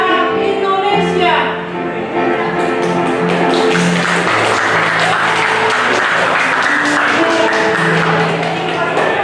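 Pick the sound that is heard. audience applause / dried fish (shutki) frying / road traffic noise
audience applause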